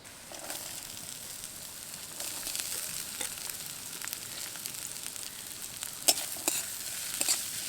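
Chopped onion sizzles steadily in a pan of hot oil, browning while being stirred, with occasional scraping clicks from the spatula over a constant close crackle and no talking.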